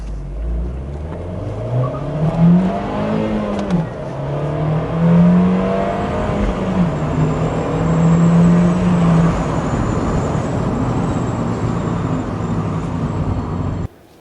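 A Fiat 124 Spider with a 1.4-liter turbo engine drives past, its engine note rising and falling through gear changes, sustained and fairly loud with road and wind noise throughout.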